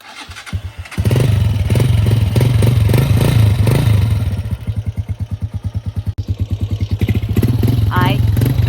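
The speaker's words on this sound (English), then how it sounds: "now we go for a bike tour around the village" A motorcycle starts up and idles with a steady chugging engine pulse before pulling away for a ride around a Russian village, loud and close, the rhythm shifting as it moves off.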